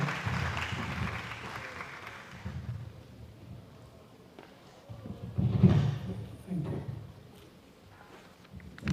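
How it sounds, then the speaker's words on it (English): An audience at a university research conference applauds, a moderate burst of clapping that fades quickly, followed by low rumbling room noise and scattered sounds. "Another round of applause for him, distinguished ladies and gentlemen"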